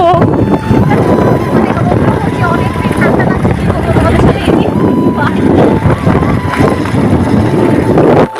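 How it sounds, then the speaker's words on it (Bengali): Strong wind buffets the microphone during a cold night ride on a motorbike, a loud, constant roaring rush that fills the whole stretch, with a voice speaking faintly beneath it. "অনেকটাই হাওয়া মারছিল"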